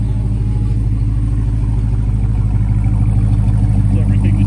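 A blacked-out Dodge Charger RT engine gives off a loud, close, continuous low rumble, steady and even with no clear revving.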